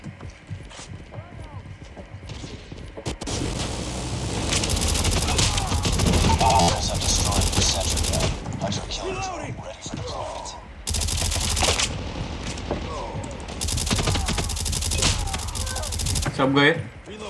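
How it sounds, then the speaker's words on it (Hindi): Sentry gun in Call of Duty Mobile firing sustained bursts in a frontline match, loud and dense gunfire that pauses briefly around the middle, with game effects and a voice talking throughout. "सेंट्री गन लगा दी भाई।"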